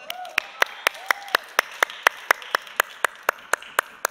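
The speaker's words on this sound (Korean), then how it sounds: "우리 자매님들 박수" Church congregation members clap in an even, crisp rhythm of loud individual claps, almost a beat each half second, with faint voices and a short tonal sound early on underneath.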